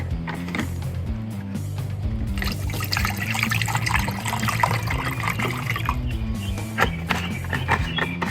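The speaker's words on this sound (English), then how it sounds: "Of course, we need to be able to rinse our blade." A razor blade is rinsed in water in a canteen cup during a traditional wet shave, with close sloshing and trickling water splashing steadily and somewhat loudly for several seconds, and no talk.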